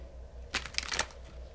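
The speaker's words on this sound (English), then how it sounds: "One more shuffle." A brief riffle of tarot cards being shuffled, a few quick papery flutters in a quiet room.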